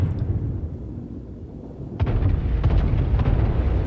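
Battleship main guns firing in World of Warships, USS West Virginia: a deep, sudden boom breaks in over a low rumbling ambience, followed by a rolling, crackling tail and further heavy thuds, loud and close.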